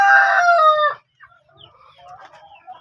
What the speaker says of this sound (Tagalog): Ito yung aming mga Rhode Island Red at Decalb Brown.